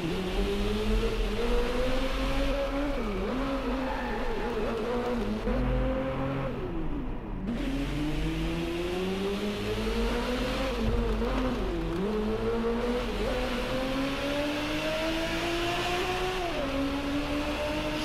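Lamborghini Reventon V12 6.5 engine in the Drive Club racing game, revving steadily with rising and falling pitch sweeps, loud and continuous throughout with no talk.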